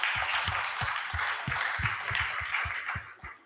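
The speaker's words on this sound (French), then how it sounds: "j'aimerais que vous vous auto-applaudissiez" A festival audience at a cancer charity round table applauds steadily, a dense wash of many hands clapping continuously with a few louder individual claps, fading slightly at the end.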